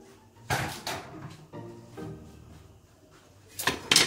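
A lid lifts off a cooking pot of sizzling oil as mussels are about to go in, with sharp metallic clanks and rattles near at hand, then a louder clatter at the end; no talking.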